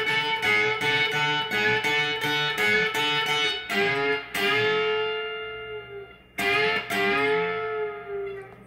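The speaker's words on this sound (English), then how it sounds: "it's just a half step bend" Electric guitar lick, a run of quick picked notes followed by a sustained half-step bend that rings and fades, then a fresh attack; clean, close and alone without talk.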